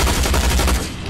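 A turret fires in the Tales from the Borderlands video game as a short, loud burst of rapid shots that cuts off abruptly.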